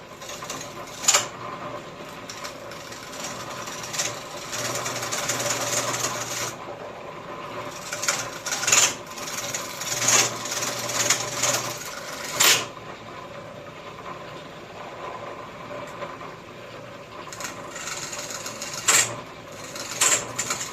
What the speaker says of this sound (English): I'm getting close to the edge here, getting where the chisel ain't sharp, and I'm catching on that